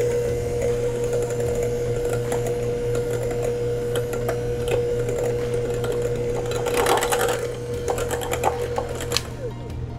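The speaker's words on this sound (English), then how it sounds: "we're gonna do our hand mixer on low here and just blend these all in" A hand mixer on low speed blends cheesecake batter with a steady motor hum and rapid rattling of the beaters against the bowl, close and continuous, as someone talks over it.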